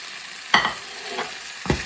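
Red and green capsicum strips drop into a pan of well-cooked frying onions, giving a few quick scraping bursts with a soft sizzle between them.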